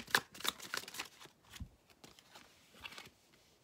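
Oracle cards being shuffled by hand for a tarot-style reading, a run of soft papery riffles and flicks close up, busiest in the first second and then sparser, with no talking.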